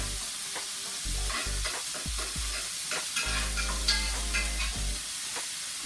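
A thin beef steak sizzling in a tilted pan while a spoon bastes it, steady frying crackle with repeated spoon scrapes and splashes, close and clear with no talk.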